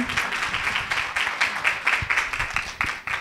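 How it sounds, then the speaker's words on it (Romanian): Conference audience at a business event applauding two speakers from a charity, a fairly light patter of clapping heard throughout at moderate distance, with no talk over it. "Haideți, vă rog, încă o dată să le aplaudăm."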